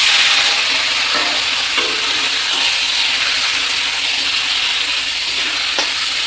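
Marinated chicken sizzles loudly and steadily in a hot pan for a spicy amra chicken curry, a constant bright frying hiss with a few faint stirring knocks and no voices.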